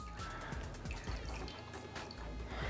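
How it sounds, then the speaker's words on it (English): Cooled sugar syrup made from equal parts water and sugar being poured into a jug, a quiet continuous liquid trickle and glug with small dripping sounds. "I'm gonna transfer it into the jug and then I'll pour it into the jar from there"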